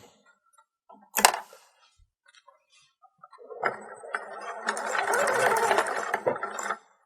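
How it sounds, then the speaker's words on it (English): A sewing machine back stitches straps onto a bandeau, a steady mechanical whir running for about three seconds after a brief clatter of handling, close and fairly loud with no talking. "you want to make sure and back stitch"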